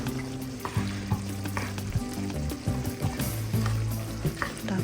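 Corn and black pepper powder frying in a pan on a stove, with a steady sizzle and repeated scraping and clinking of stirring.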